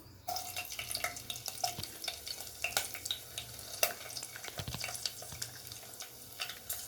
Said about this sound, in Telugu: వేడైంది. పచ్చిమిరపకాయలు వేస్తున్నాను ముందుగా.